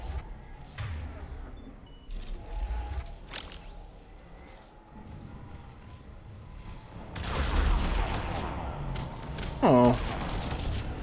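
Enemy gunfire in the Mass Effect 3 video game, scattered shots and bursts at moderate distance amid rumbling combat noise, with a louder flurry of fire toward the end.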